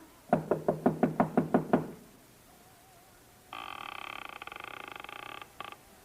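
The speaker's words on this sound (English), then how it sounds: "I finally took a chance and knocked on a door." Knocking on a door in a comedy radio show: about nine quick, evenly spaced raps, close and crisp. A buzzing ring-like tone follows after a short pause.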